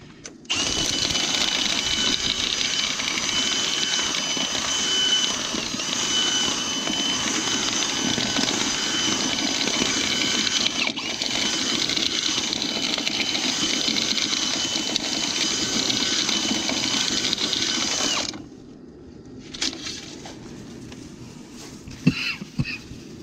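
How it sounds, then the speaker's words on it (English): A loud, steady mechanical whir with a high whine runs continuously, then drops away near the end, leaving quieter clunks and rustles. "I can tell the dryer is starting to get louder"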